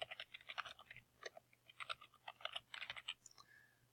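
Fast, uneven clicking of keys on a computer keyboard as someone types text into a box, close and crisp in short bursts with brief pauses.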